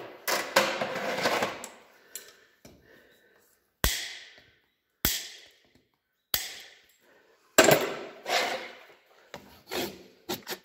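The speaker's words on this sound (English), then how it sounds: "This side, I'll go hammer clinch on the inside and clinch tongs on the outside." Hammer blows clinching the nails of a hot-fitted horseshoe on a horse's hoof, about six sharp, separate strikes spaced a second or so apart, close by, mixed with rasping and rubbing between them.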